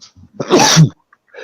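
A single sharp sneeze bursts out close and loud in the middle of the moment, with a short spoken word and light breathing around it.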